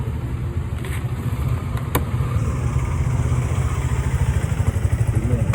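A motorcycle checked during a police patrol against unregistered bikes idles close by, its engine throbbing in a fast, even pulse with a slight clatter, steady and fairly loud.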